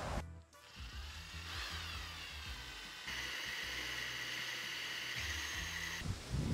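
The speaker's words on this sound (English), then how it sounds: "But first I gotta drill a hole in here." A power drill bores a hole in a metal plate on a solar trailer swivel lock, its high whine rising and steadying over several seconds with a brief pause near the start and a spin-down at the end, loud and close.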